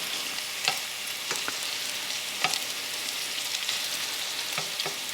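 Prawns searing in a pan with garlic as a garnish for prawn bisque, a steady soft sizzle with occasional spatula scrapes and clicks, close by and fairly quiet, with no talking.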